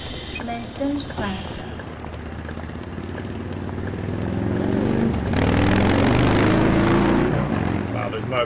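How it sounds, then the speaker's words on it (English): Loud motorbike engines roar past in Bus Driving Sim 22 on a Berlin city map, building to a sustained rising drone over the steady hum of the bus, with someone talking throughout. "Wow, those motorbikes are loud."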